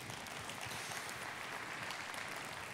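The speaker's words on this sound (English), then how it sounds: "Could you please give a big round of applause, a welcoming round of applause for Mr." Steady, dense audience applause welcoming a guest onto a stage for an interview with Yannick Bolloré of Havas Group, a continuous even wash of many clapping hands at moderate volume with no voices over it.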